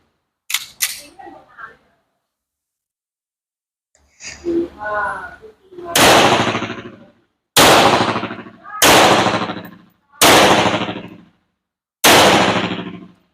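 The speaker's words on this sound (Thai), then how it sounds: "เดี๋ยวเราจะให้ เจ้าของปืนยิง ให้เพื่อนๆชมก่อนนะฮะ" A Beretta 92 FS 9 mm pistol fires at a shooting session: five loud, sharp shots spaced about a second or more apart, each with a ringing echo tail, following a couple of earlier cracks and a brief murmur of voices.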